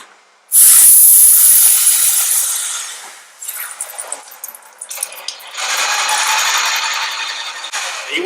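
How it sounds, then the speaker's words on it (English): Airless paint spray gun firing water through its tip after pressurising, a loud steady high hiss starting abruptly, fading, then sputtering and resuming as a second sustained spray burst. "So if we squeeze this trigger here, it should go with a bit of water."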